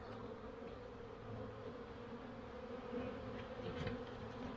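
Honeybees at a hive make a faint, continuous buzzing hum that holds steady throughout.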